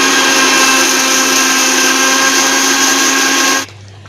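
A mixer grinder grinds roasted spices for a homemade pickle, giving a loud, steady high-pitched whirring drone that runs for several seconds and then cuts off abruptly.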